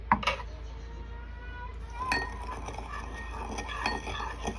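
Salt and sugar for sushi rice are stirred in a bowl, giving light metallic clinks and scrapes of a utensil against the dish, quiet and close, with a few sharper taps.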